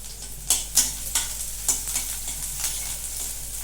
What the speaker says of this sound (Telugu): మనం కట్ చేసుకున్నాం ఆనియన్, పచ్చిమిర్చి ఇవి వేసుకొని మగ్గనివ్వాలి